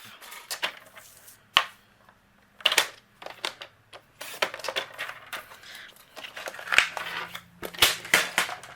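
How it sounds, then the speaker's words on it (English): Striped paper is trimmed down to card panel size with a paper trimmer, producing a series of sharp, irregular clicks and cutting snaps spread across the clip, with quiet gaps between them. "I'm going to trim it down to 4 1/4 by 5 1/2."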